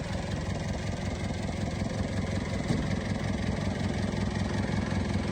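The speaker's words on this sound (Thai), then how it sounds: "สตาร์ทสิ เห็นไหมครับ เครื่องแน่นมาก แน่นมาก" A used car engine idles steadily right after starting, a constant low rumble close by with no change in pace, and no one talks.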